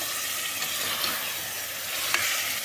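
Mutton pieces frying in onion-flavoured oil for jeera rice biryani give a steady, close, dense sizzle with faint crackles and a couple of brief louder spits, no voices.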